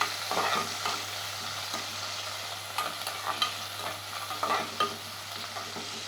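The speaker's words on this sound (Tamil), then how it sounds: "வெங்காயம் போட்டு கொஞ்சம் ஃப்ரை பண்ணோடனே தக்காளி போடுறோம்" Onions and tomatoes fry in a pan for mutton bone salna, a steady close sizzle with scraping stir strokes and occasional clinks; no one speaks.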